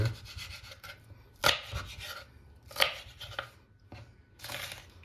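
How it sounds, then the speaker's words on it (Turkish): A knife cuts capia and green peppers into large pieces on a board, giving a few distinct chopping knocks separated by softer scraping, close and moderately loud with no talk. "Bu şekilde doğruyoruz efendim."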